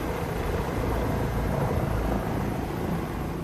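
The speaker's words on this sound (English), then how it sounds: "Paradise Helicopters' Darren Hamilton, our pilot and guide, giving us rare access" A helicopter's steady low rotor thrum and engine roar fill the whole stretch, loud and continuous, with no voices.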